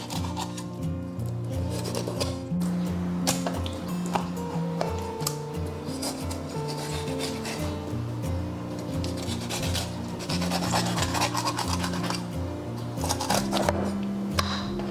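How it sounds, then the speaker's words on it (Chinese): A knife filleting a cleaned yellow croaker, close scraping and rubbing strokes of the blade against flesh and bone, repeating continuously over a cutting surface with no voices. "首先把黄花鱼洗干净过后，我们把两边的鱼肉给它片出来"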